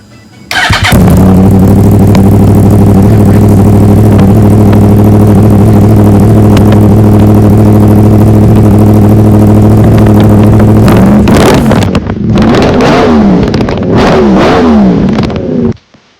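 A Yamaha R1 sportbike fitted with new Acapulco exhausts starts, then holds a loud steady idle before blipping the throttle in several sharp revs near the end.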